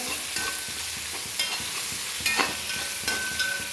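Green chilies sauté in hot oil with a steady close sizzle, stirred now and then, the stirring giving a few sharper scrapes and clinks. No one speaks.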